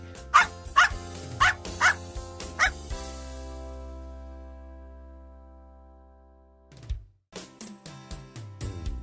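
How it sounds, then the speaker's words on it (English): A dog barks in a quick series of sharp, loud yaps over a sustained musical backing, which then fades out before a second burst of rapid barks. "Dog"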